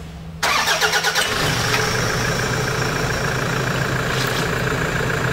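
A Toyota Hilux with an automatic gearbox, in for a transmission oil change, starts after a short silence with a brief cranking burst. The engine then settles into a loud, steady idle close by that carries through to the end.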